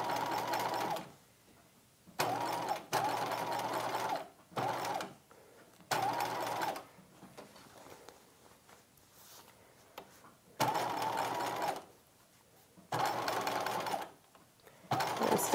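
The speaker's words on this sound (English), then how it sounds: "I'm stitching over my boning channeling now" A sewing machine stitches over boning channels through bulky lining layers of a 1950s halter dress, running in several short bursts separated by brief pauses.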